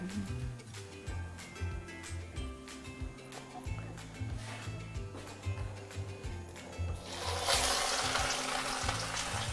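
Breadcrumb-coated chicken Kiev deep-frying in hot oil, a steady broadband sizzle that swells louder near the end, with kitchen clatter and low background sounds throughout.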